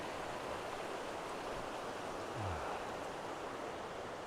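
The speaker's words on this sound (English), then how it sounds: "Is there anything more peaceful than a mountain creek?" Steady broadband rush of a mountain creek running over rocks on the Grotto Falls Trail, Hyalite Canyon near Bozeman, continuous and even with no voices.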